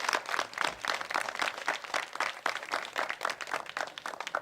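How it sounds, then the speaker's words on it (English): Audience applause at a police department announcement on domestic violence: a modest crowd claps in quick, distinct, uneven bursts at moderate distance, with no speech over it. "Let's give her a round of applause."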